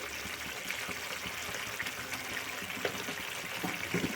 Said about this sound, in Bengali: এখন আমি জল দেব অল্প করে, অল্প জল দিয়েছি।